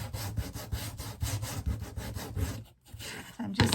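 Sanding a Dollar Tree wooden cutting board to distress a fall pumpkin sign, a close, rhythmic back-and-forth scraping in quick strokes that pauses briefly near the end before a final rub and clatter.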